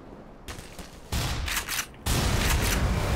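Shotgun blasts from the video game Black Mesa: two heavy, loud booming shots with rattling tails, the second followed by sustained dense noise, with no talk over them.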